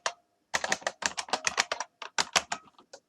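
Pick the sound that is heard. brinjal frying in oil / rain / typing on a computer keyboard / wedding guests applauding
typing on a computer keyboard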